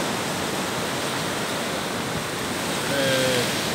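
Strong ocean waves crash at Praia do Ervino beach in São Francisco do Sul, a loud, continuous roar of surf filling the whole moment with no break.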